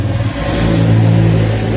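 A 4-thread overlock sewing machine running fast, giving a loud, steady motor whir with a constant humming drone throughout.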